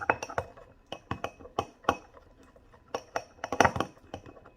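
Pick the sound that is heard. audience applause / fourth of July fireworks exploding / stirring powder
stirring powder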